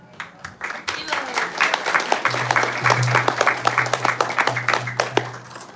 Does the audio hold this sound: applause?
yes